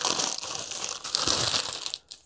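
Plastic eBay parcel bag crinkling and rustling continuously as it is handled up close, with a brief pause near the end before one last crinkle.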